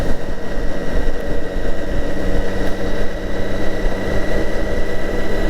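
A Honda Africa Twin motorcycle with DCT automatic gearbox drones steadily while riding, a dense continuous engine hum mixed with wind rush, close and loud throughout without any talk.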